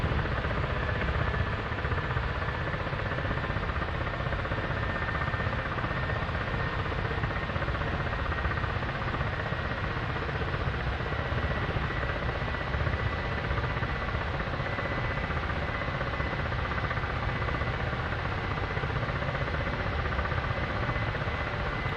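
A Ka-50 attack helicopter taxis for takeoff, its coaxial rotors and turbine engines making a steady, dense, unbroken drone. The sound stays loud and even throughout, with no voices.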